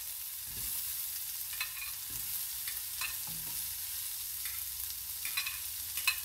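White onions sautéing in a pan for a Filipino ginisang gulay, a steady soft sizzle with occasional spatula scrapes and stirs, fairly close, no voices.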